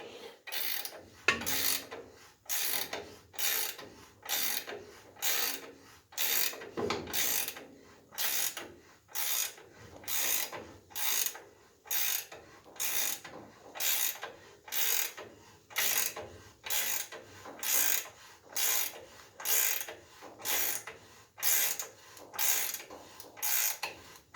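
On a 1941 Dodge truck build, a Mustang II front suspension part is compressed with a slow, regular ratcheting crank, each stroke a sharp mechanical click-clack repeating about once a second, steady and close, no speech.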